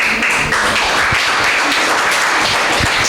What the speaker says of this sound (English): I request the audience to give a big round of applause for Parth.